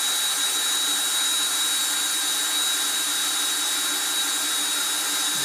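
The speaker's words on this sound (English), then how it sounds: "I'll drill the bottom hole." A steady, loud motor whine from a power drill cutting through two layers of plastic and a lens on a Stormtrooper helmet, continuous without pause and heard alone.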